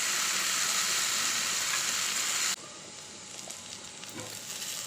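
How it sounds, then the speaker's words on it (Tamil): Cut potatoes hit hot oil in a pan and fry with a loud, steady sizzling hiss that drops abruptly in intensity midway, then continues as a softer, crackling fry. "ஆயில் நல்லா சூடானதுக்கப்புறம் நம்ம கட் பண்ணி வச்சுருக்க உருளைக்கிழங்கு அதில் சேர்த்துடலாம்"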